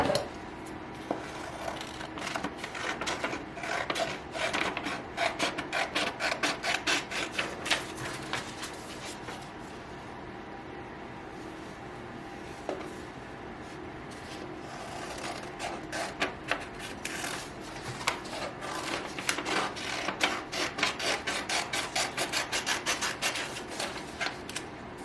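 Scissors trim excess paper from a printout for shirt applique placement, giving close, repeated crisp snips and rustling paper in uneven bursts with a quieter pause midway.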